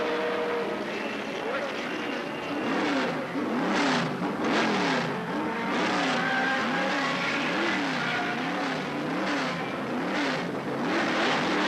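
Can-Am race car at the 1983 Trois-Rivières event, engine drone with repeated rising and falling revs as it runs through pit lane for a fuel stop, steady and fairly loud under a commentator's talk.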